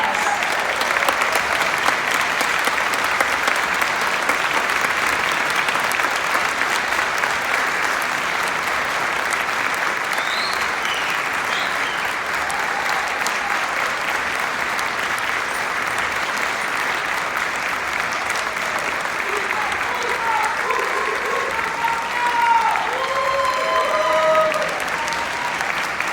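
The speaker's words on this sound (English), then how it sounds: "Please help me give them a round of applause." Sustained applause from an audience at a state senator's inauguration ceremony, steady and dense for the whole stretch, with scattered voices and faint cheers rising near the end.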